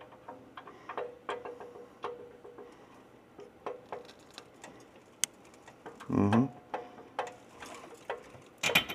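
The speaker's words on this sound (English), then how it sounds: "that's the subframe setting down on the washers on those mid pipes" Quiet mechanical ticking and light metallic taps as a car's subframe is lowered onto washers on the exhaust mid pipes, with a brief louder clunk of metal settling partway through and a sharp knock at the end.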